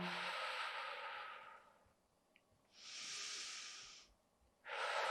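Slow, deep breaths during a Pilates core-strengthening exercise: two long airy exhales with a quiet pause between them, then another breath starting, close and fairly soft with no talking.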